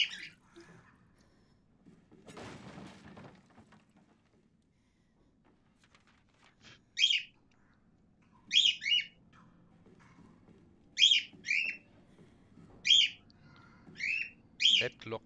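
Birds chirping in the video game Resident Evil 7, short bright chirps in quick pairs and clusters repeating at intervals over a quiet background, after a brief muffled thump and some faint talk.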